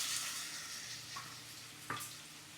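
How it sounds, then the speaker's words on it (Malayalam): A paste of ground ginger, green chili and garlic sizzles in hot oil, with a steady broadband fry and a short sharper burst near the end as it is stirred. "ഓയിൽ നന്നായിട്ട് ചൂടായപ്പോൾ ഇഞ്ചി പച്ചമുളകും വെളുത്തുള്ളിയും കൂടി അരച്ച് വെച്ചാണ് അത് ഈ പേസ്റ്റ് ചേർത്ത് കൊടുക്കാം"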